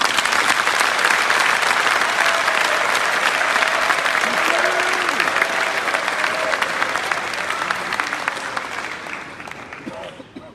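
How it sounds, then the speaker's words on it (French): Party congress delegates of the PDCI-RDA break into warm, sustained applause filling a large hall, dense steady clapping that holds for about ten seconds before gradually thinning toward the end, with faint voices mixed in. "Je vous demande de les applaudir chaudement."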